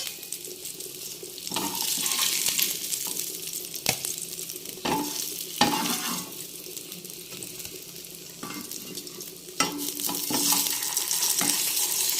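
Masala-coated fish fries in oil with a moderate crackling sizzle, punctuated by sharp clinks and scrapes as the pieces are turned, close and continuous without speech.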